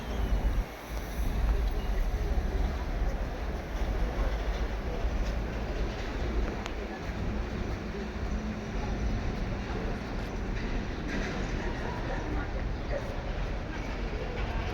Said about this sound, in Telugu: బుజ్జి ట్రైన్ వచ్చేస్తుంది.